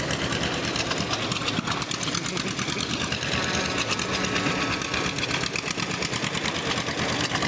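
A John Deere tractor engine runs steadily at a fall fair parade, a dense, continuous mechanical chugging that stays loud and close throughout without pause.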